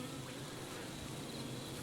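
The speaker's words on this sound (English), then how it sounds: "Oh, my bees. Beautiful flowhive." Honeybees around a Flow Hive in a food-forest garden hum in a dense, steady drone that stays fairly faint and continuous, with no talking over it.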